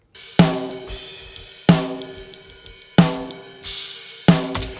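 Four evenly spaced snare drum strikes recorded with an SE Electronics V7X microphone, with a fuller, punchy attack and a brief ringing tail, no voices.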